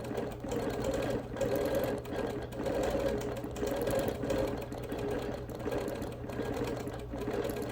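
A sewing machine quilts a wool appliquéd quilt in a fast, steady stitching rhythm of even pulses. It sounds moderately close and continues alone without pause.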